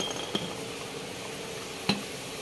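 Tomatoes, onion and garlic cooking in a pot of coconut milk with bamboo shoots, a soft steady simmering hiss broken by two sharp clinks of a utensil against the pot.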